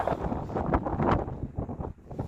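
Gusty wind by a mountain lake buffets the microphone in loud, rough bursts, a continuous blustery roar with no other sounds.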